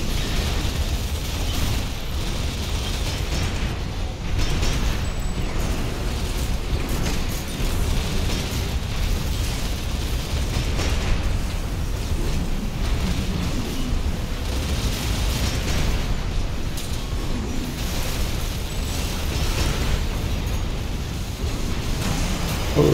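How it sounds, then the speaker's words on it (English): Grenade explosions in the video game Armored Core 6 fill the clip with dense, rumbling booms and bursts layered over constant mechanical noise, sustained and loud with no clear pauses. "I'm just going to toss grenades into that."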